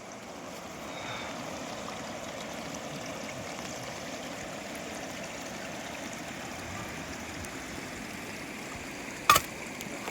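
A waterfall rushes in a steady, broad roar that stays constant and moderately loud throughout. A brief sharp knock sounds near the end.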